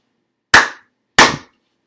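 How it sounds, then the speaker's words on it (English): Two sharp, close hand claps, spaced a little over half a second apart, ringing briefly in otherwise silent air. "if I decide to clap twice"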